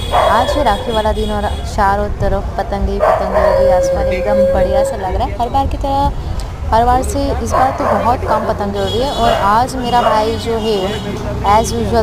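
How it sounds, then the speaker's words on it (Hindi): A dog barks repeatedly from a nearby rooftop area on a festival day of kite flying, its yips and howl-like calls running under continuous talking throughout. "यहाँ पे पता नहीं क्यों कुत्ता भौंक रहा है।"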